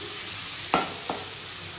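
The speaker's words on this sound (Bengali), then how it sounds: "হোক আর একটু ভাজা, এই হয়ে গেছে পেঁয়াজটা ভাজা।" Onions frying in a pan with chilli for Bengali posto, a steady hiss of sizzling oil with two sharp scraping stirs close by.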